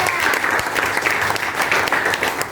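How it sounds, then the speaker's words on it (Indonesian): Applause from a classroom of students, dense steady clapping that fills the whole stretch at close range with no talk over it. "Yuk, kan tepuk tangan untuk Amanda."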